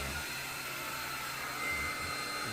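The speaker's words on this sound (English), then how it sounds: "We get the dryer back again." A hair dryer blows on a poured paint canvas with a steady, close, whooshing airflow that holds constant throughout.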